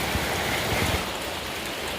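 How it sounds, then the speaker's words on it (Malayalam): Heavy monsoon-style rain pours down in a dense, continuous hiss with scattered drips and patters on surfaces nearby, steady and fairly loud with no voices. "ഭയങ്കര മഴയാണ് ഭയങ്കര പൂര മഴ"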